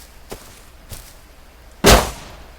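Three sharp video game gunshot cracks spaced across a couple of seconds, the first two fainter and the last loud and close.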